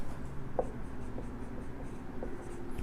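Chalk or marker scratching out a chemical reaction on a board: faint, close, irregular strokes and taps over a low background hum, with no voices.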